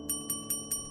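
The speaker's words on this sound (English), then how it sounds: "I heard the familiar sound of the service bell." A restaurant table-service call bell rings four evenly spaced electronic chimes in quick succession, clear and moderately loud over a faint steady hum.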